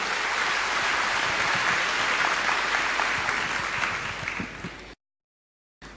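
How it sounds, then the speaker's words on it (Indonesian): Steady, dense audience applause for a guest on a studio talk show, sustained for about five seconds before cutting off abruptly. "tepuk tangan buat Roy yang humble sekali"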